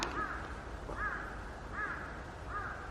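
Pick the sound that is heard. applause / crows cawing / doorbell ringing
crows cawing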